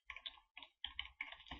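A handful of quiet keystrokes come from a computer keyboard as short clustered clicks in quick bursts, close to the microphone, with no one speaking.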